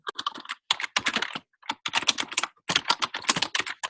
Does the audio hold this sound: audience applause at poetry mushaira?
no